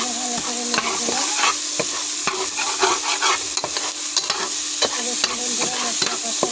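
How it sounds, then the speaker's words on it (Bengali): Spices for jackfruit curry are sautéed in a hot pan, crackling and sizzling loudly up close as a spatula scrapes and stirs them in quick, repeated strokes. "মশলাগুলো কষিয়ে নেব। মশলা ভালো করে নেড়ে দিলাম।"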